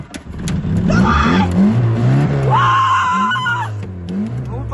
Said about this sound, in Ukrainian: Аби почути гуркіт машини, довелося докласти чимало зусиль.